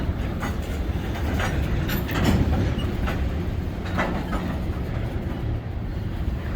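A Canadian National freight train rolls past northbound in Green Bay, a dense, steady rumble with clattering wheel hits and rattling cars, close and loud throughout.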